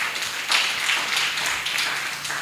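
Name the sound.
audience applause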